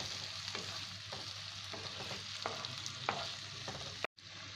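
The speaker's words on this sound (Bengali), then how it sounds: "এরপর দিয়ে দিচ্ছি ছোট সাইজের 2টো টমেটো কুচি। এটাকে ভালো করে কষিয়ে নেব।" Two chopped small tomatoes sautéing in a pan for an omelette curry give a steady, close sizzle with scattered spoon-stirring scrapes, and the sound cuts off abruptly near the end.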